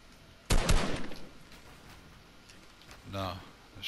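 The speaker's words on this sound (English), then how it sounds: "No, it's just me firing to get attention" A player's gun fires in the Fortnite game, a quick loud burst of several shots near the start, then quieter game noise with a voice talking toward the end.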